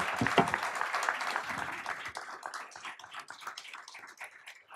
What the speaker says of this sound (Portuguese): uma boa salva de palmas